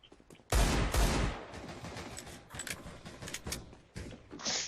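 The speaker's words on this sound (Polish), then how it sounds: "ten mi kurde dalej strzela" Gunfire in the video game CS:GO, with dense automatic bursts that start loud and then continue as rapid, uneven shots and echoing cracks, ending in a brief high metallic tail.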